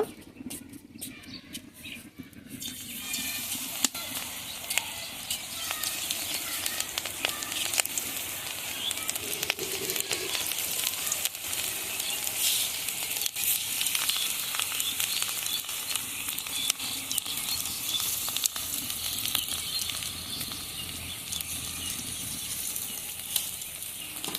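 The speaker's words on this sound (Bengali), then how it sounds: "তেল গরম হয়ে গেছে, এখন আমি পাকোড়াগুলো ভেজে নেব।" Capsicum pakoras fry in hot oil in a wok, giving a constant close, bright sizzle and crackle that runs evenly for the whole stretch without anyone talking.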